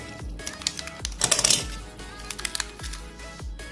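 Paper packaging around a Nema 17 stepper motor is unwrapped up close, giving a run of crisp crinkles and rustles with a few soft thumps and no speech.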